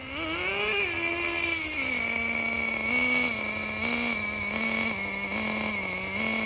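A Thunder Tiger Tomahawk two-speed RC car motor whines steadily and close, its pitch stepping and wavering as the brakes are released, with a bright high buzz throughout and no talk.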